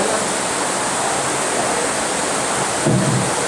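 Heavy rain hisses loudly and steadily throughout, with a short low rumble or thump just before the end and no one speaking.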